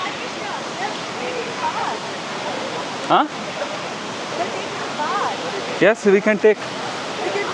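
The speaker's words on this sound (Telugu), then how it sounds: "వచ్చేసాం వాటర్ ఫాల్కి." Netravathi waterfall in Karnataka during rain, a loud, constant roar of falling water that fills everything, with a few short bursts of voices talking over it.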